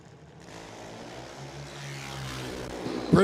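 Junior dragsters at a drag strip launch, engines rising into a building mechanical drone that grows louder over a few seconds and ends in a sharper burst, heard from a distance with no talk.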